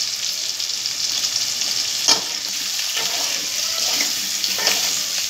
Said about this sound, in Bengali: সব মশলাগুলো এখন একসাথে ভালো করে কষাবে